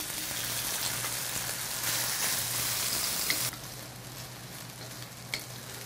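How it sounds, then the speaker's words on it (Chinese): Vegetarian shredded mock meat stir-fries in hot oil in a wok, a loud, steady, crackling sizzle that drops abruptly to a quieter fry midway, with a couple of sharp pops and no speech. "首先呢，我们要将素肉丝爆香。"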